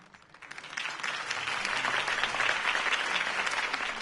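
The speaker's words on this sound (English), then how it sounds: "If only Mr. Wayne, my campaign's largest backer, could have heard that applause" A crowd applauding steadily in a Batman video game, a dense wash of clapping that swells in the first second and holds loud and even throughout.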